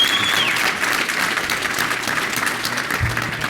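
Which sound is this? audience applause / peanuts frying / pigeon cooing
audience applause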